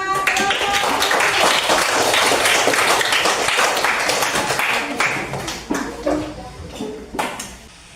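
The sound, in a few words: applause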